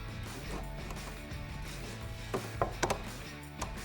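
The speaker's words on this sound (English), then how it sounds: "Place a hand here, just kind of hold it down and lift up on the adjustment lever." Adjustment lever on a car seat bracket for SpeedForm racing seats in a Mustang, with the bracket sliding along its ratchet: faint mechanical clicks and a few sharp ratcheting snaps near the end, close and quiet.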